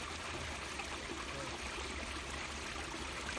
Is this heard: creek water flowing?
yes